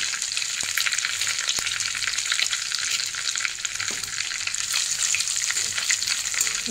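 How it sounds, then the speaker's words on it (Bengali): Whole garam masala, a bay leaf and cumin seeds tempering in hot oil, producing a loud, continuous bright sizzle and crackle with a few sharp pops, close up and without talk. "এবার এই তেলে আমি একটু গোটা গরম মশলা আর একটা তেজপাতা ফোড়ন দিলাম, আর তার সাথেই দিয়ে দিলাম একটুখানি জিরে।"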